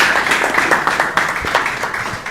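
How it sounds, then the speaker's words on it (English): A seated audience at a university computer science research workshop gives a round of applause, steady dense clapping that holds loud for a couple of seconds. "she deserves another round of applause"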